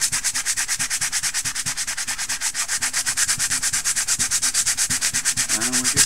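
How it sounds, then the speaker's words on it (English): Coarse 120 grit sandpaper rubs over a 1/35 scale model in quick, regular back-and-forth strokes, a close, rhythmic scratchy rasp that continues steadily with no talking. "And we'll just keep sanding."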